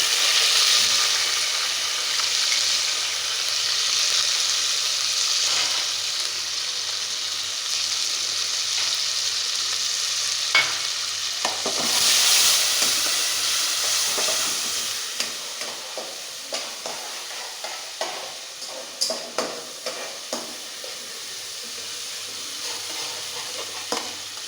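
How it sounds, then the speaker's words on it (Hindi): Ginger and garlic paste frying and being stirred in a pan for a tahari, a steady close hiss of sizzling with scraping stirs, easing into softer crackles and small pops toward the end; nobody speaks. "अब ये हम डाल रहे हैं ये अदरक और लहसुन का पेस्ट"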